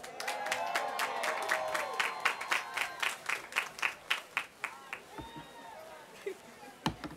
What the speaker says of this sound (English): let's give a resounding applause for our valedictorian, Ms. Bridget Baldwin.